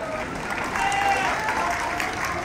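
A crowd at a political rally applauds steadily for about two and a half seconds, a dense wash of clapping mixed with scattered voices and cheers.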